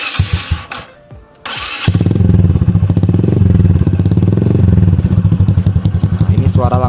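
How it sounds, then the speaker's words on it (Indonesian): A Honda Supra X 125 fitted with an original Lone Rider exhaust, after two years of use, settles into a steady, loud idle up close. Its rapid, even pulsing runs for about five seconds after a brief lower-level start with some background noise. "Nah, ini suara langsam seperti ini ya"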